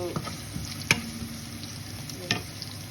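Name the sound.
garlic paste sautéing in pan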